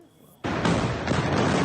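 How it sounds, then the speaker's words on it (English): Explosions in Beirut from news report footage: after a quiet start, a sudden massive roaring blast erupts and sustains loud, broad rumbling to the end. "it was destroyed in a series of deafening explosions in Beirut"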